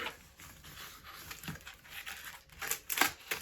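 Plastic parcel packaging is pulled open and a second plastic bag is unwrapped from inside it, giving quiet close crinkling and rustling with a few sharper crackles near the end.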